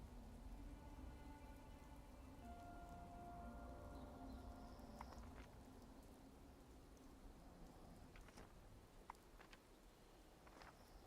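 Steady rain patters in the game Fallout 76, a continuous soft hiss of drops on surfaces with occasional sharper ticks and faint tonal hums underneath, quiet and unbroken.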